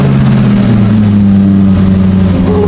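The engine of a rebuilt, previously damaged Range Rover SVR runs close by, a deep steady rumble with a slight shift in pitch, loud with no other sounds.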